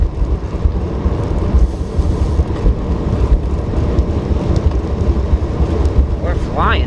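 Strong wind buffeting a microphone while bike commuting in cold weather: a loud, continuous low roar with gusty surges that never lets up.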